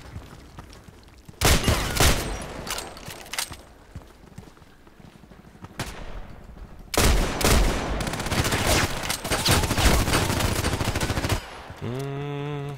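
Repeated gunfire from an IZH-43 shotgun in the video game Contract Wars, loud volleys in clustered bursts separated by quieter gaps, ending in a short tonal chime.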